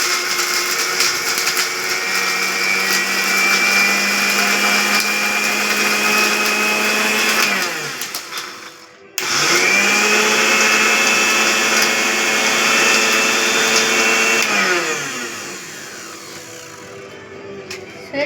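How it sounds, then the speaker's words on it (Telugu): A kitchen mixer grinder grinds dry chillies and garlic into a coarse mix, a loud, close motor whine running in two long bursts separated by a brief stop. "ఇప్పుడు దీన్ని మనము మిక్సీకి పట్టుకోవాలి"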